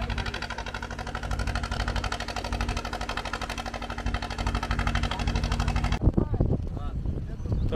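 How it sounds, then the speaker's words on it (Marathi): A motor boat used for sand extraction runs on the Karli river with a steady, close throbbing engine drone that cuts off sharply near the end, leaving softer water and background noise. "ही रेती काढायची होडी चेनवणच्या दिशेने चालली आहे"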